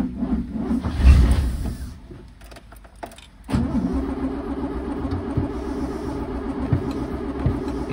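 A 1963 Mercedes W111 220SEb engine cranks with a whirring starter, pauses briefly, then catches and settles into a steady, close idle with a faint rhythmic ticking.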